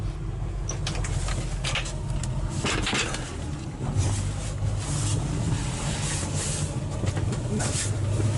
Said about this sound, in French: c'est le bruit de l'hélice qui tourne, qui est entraîné par la vitesse.